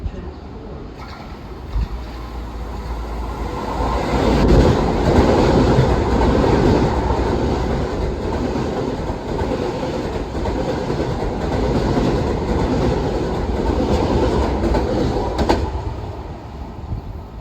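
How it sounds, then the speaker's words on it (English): A Long Island Rail Road train passes through Forest Hills station in Queens during the evening rush, giving a steady, loud rumble of rail cars with faint clickety-clack and distant birds, and no talk. "train to Penn Station is now arriving on track 3"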